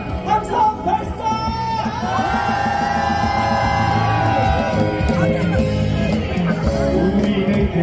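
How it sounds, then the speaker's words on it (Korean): A crowd at a candlelight protest rally in front of a party office in Daegu shouts and cheers loudly, with whoops and sustained yelling that swell and hold for several seconds over a busy babble of voices. "함성 발사!"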